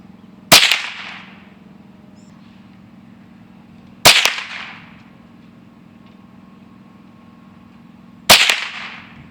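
An older Marlin Model 60 rifle fires three loud, sharp shots about four seconds apart, each crack trailing off briefly, with no talking.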